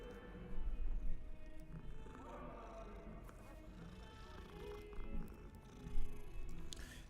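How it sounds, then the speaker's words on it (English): A cat being petted in the video game Hogwarts Legacy purrs in a soft, continuous rumble, faint and close, with gentle swells and a few other quiet game sounds mixed in. "And you can pet cats, of course."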